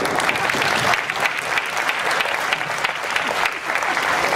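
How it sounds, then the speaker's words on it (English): Sustained audience applause fills a lecture hall at a DXN company presentation, a dense, steady wash of clapping hands that stays loud and continuous throughout with no speech over it. "Give them a round of applause, by the way."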